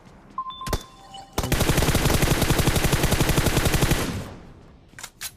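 A Tommy gun fires at bots in a video game as one sustained rapid burst of about two and a half seconds. A couple of single shots and clicks come before it, and a few faint thuds follow.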